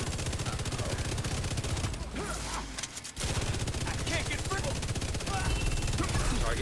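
A video game firefight with rapid, continuous automatic gunfire that drops away briefly near the middle before resuming at full intensity, with voices heard over the shooting.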